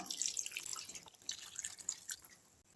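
Water is poured into a pan of crab gravy, making a faint, steady trickle with light splashes and drips, heard alone and quietly throughout.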